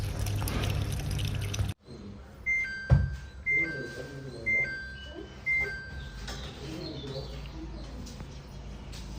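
A Samsung top-load washing machine sounds its door-open alert while filling with water: a series of about four short, high electronic beeps repeating at a steady pace over a faint trickle.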